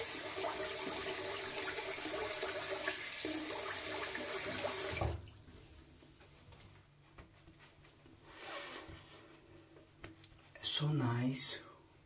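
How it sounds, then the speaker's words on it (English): Running water and splashing as water is splashed onto a face fill the first five seconds, followed by quieter rubbing and a couple of short wet splashes near the end. "some water on my face."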